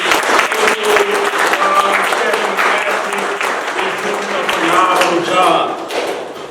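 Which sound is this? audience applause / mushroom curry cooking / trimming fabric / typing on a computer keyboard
audience applause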